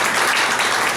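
Applause at a Brazilian legal association's study session on family and inheritance law, a dense, steady wash of clapping filling the whole moment at moderate loudness.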